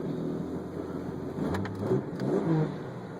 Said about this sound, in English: Engine's good and strong.